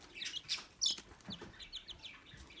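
Baby chicks in a brooder give faint, high, short peeps in quick irregular bursts, soft and close in a quiet space.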